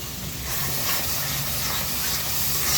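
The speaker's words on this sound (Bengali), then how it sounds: "এখন নাড়িয়ে নিচ্ছি" Frying food stirred in a pan with ground spice paste before dried hilsa fish goes in, a steady broad sizzle with faint scraping, loud and continuous with no voices.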